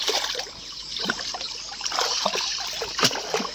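Floodwater from a broken channel gurgles and splashes close by across a submerged farm field, an uneven trickling flow with small bursts of splatter.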